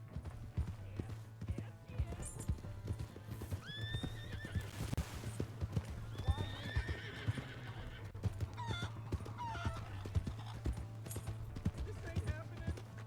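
A horse in Red Dead Redemption 2 whinnies several times over steady clip-clopping hooves, with game characters shouting and arguing throughout and a constant low hum underneath.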